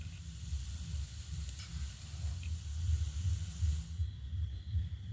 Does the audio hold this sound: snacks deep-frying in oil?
yes